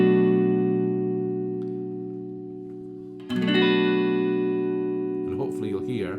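A G&L Tribute Series Legacy electric guitar on the neck pickup rings out a sustained minor 7th chord that slowly decays, then is strummed again with the bass rolled off, followed by a brief bit of talking.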